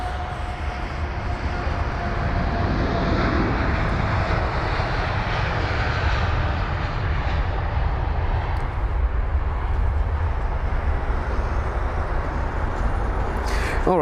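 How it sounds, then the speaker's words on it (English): Air India Boeing 787 Dreamliner jet departing London Heathrow, a loud, steady broadband engine roar that holds throughout at close range, with no talk over it. "We've got the Air India heading for departure now."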